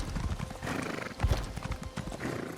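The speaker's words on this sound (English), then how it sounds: "Horse parkour." A horse gallops in Elder Scrolls Online, its hooves clip-clopping in a fast, steady rhythm, close and fairly loud, with a brief whinny.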